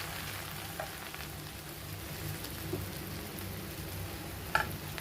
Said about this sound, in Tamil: போட்டு அதில் நல்லா ஃப்ரை பண்ணணும்.